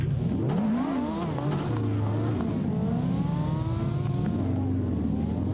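Subaru WRX engine in a racing video game, sustained and loud with rising and falling revs through gear changes, continuous throughout.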